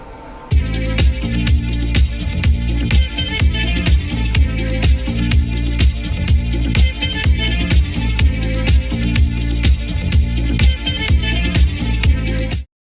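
An electronic dance track plays loudly with a steady four-on-the-floor kick beat and layered synths, cutting off abruptly at the end.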